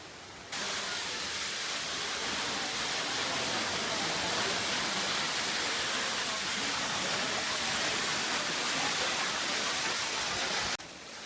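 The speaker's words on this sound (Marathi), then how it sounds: "हे बघा किती उंच धबधबा आहे" A tall waterfall near the Kondhane Caves in Karjat roars as a dense, steady, loud rush of falling water that stays unbroken for about ten seconds before cutting off.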